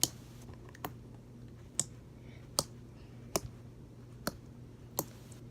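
Slime squeezed and played with by hand gives sharp, crisp clicks at a steady rhythm, about seven close pops spaced under a second apart over a low background hum.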